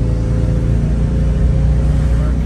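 Engine of a 1987 VW Vanagon Syncro Westfalia on the road, a steady loud low rumble and drone heard from inside the van while driving, with no clear talking.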